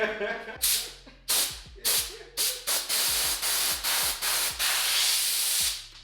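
Compressed air blasts out in about nine sharp, loud hissing bursts, each cut off abruptly, close up and in quick succession, blowing out BMW M52 engine parts after walnut blasting the intake valves.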